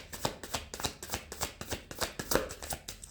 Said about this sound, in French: Je vais peut-être faire une coupe avant.